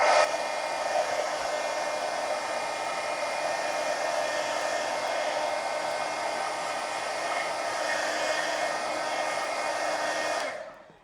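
A hair dryer blows steadily and close for about ten seconds, drying paint on a red panda mixed media painting, then cuts off at the end, with no voices.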